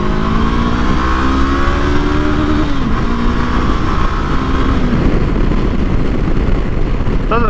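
A 2022 Honda CB500X adventure motorcycle in a second-gear roll-on from about 25, its engine note climbing steadily and loudly up close with heavy wind rush throughout, no talking.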